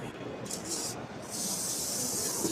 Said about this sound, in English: It's a kind of kind of steam cleaner, which can generate powerful, high pressure, high temperature steam to clean your house.